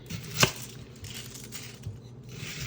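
One crisp knife chop through an onion lands on a cutting board, followed by quieter cutting and faint rustling in a kitchen.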